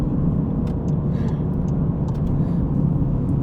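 A straight-piped Skoda Fabia with a 1.2 TSI engine drones loudly and steadily from its exhaust, a heavy low rumble that holds throughout.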